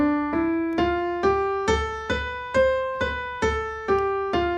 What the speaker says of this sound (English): we're gonna go from C all the way up to the next C and back down again.